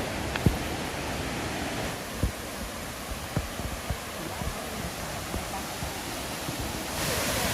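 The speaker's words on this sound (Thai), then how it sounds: "ถึงแล้วนะคะ กับน้ำตกทีลอซู น้ำตกที่ยิ่งใหญ่อันดับหนึ่งของประเทศไทยค่ะ" Thi Lo Su waterfall in Thailand roars as a steady, broad rush of falling water, heard close and continuous with a few faint knocks and footsteps over it.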